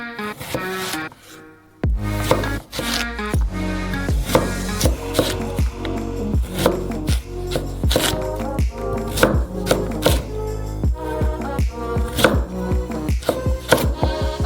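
A knife chops steadily through dense sweet potato flesh on a cutting board, cutting it into bricks. The chops come as a long run of sharp, close, fairly even knocks, with a brief pause near the start, and nobody speaks.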